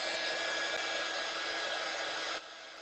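A craft heat embossing gun blows with a steady, loud whooshing hiss, then drops slightly in intensity near the end.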